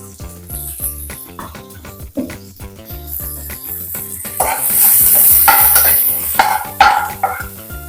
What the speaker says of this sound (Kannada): ಒಂದು ಮೀಡಿಯಂ ಸೈಜ್ 2 ಈರುಳ್ಳಿ ಸೇರಿಸ್ಕೊಳ್ತಾ ಇದ್ದೀನಿ